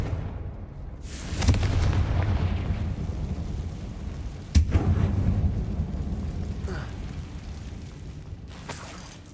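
Two Confringo spell explosions go off in the Hogwarts Legacy video game inside a mine, each a sudden heavy boom followed by a long rolling rumble, the second blast sharper, with no voices.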